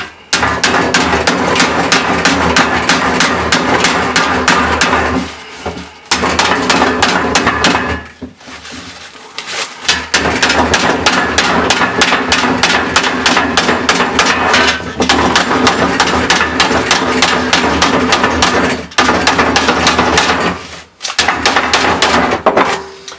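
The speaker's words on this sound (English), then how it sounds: "bring this back a bit flatter with the flat of the hammer" Rapid, steady blows from the flat of a hammer ring on metal, flattening it, loud and close, with only a few brief pauses between bursts of striking.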